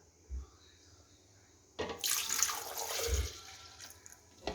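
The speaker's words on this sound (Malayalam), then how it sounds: "ഇനി അതിലേക്ക് പാലൊഴിച്ച് കൊടുക്കാം." Cold milk pours into a juicer jar holding cut banana, a sudden close rushing splash that runs for a few seconds and then eases off.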